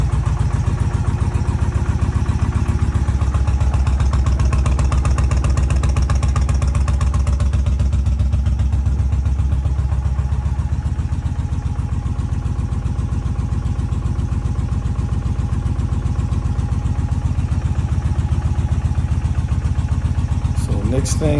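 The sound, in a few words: Indian motorcycle engine idling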